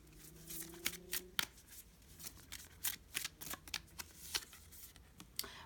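A deck of animal oracle cards is shuffled by hand, giving a string of quick, crisp riffling bursts and flicks at an irregular rhythm, close and fairly quiet against a soft room hush.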